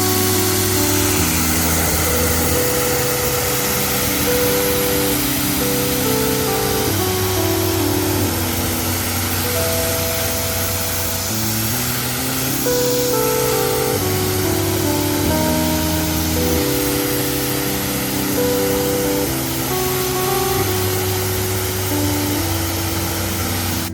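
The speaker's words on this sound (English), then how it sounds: "The pressure washer, build the pressure first." Steady, loud hiss and motor drone of a pressure washer building pressure and spraying a 2019 Chevrolet Silverado, continuous throughout with slight surges, and tonal music playing over it.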